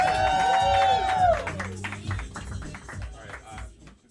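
A stand-up comedy crowd claps for a comedian leaving the stage. A brief rising musical tone opens it, then scattered hand claps and cheers come and thin out toward the end.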